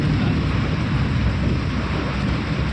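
Dense, roaring rain with a low rumble beneath it, loud and continuous like a heavy downpour during a thunderstorm.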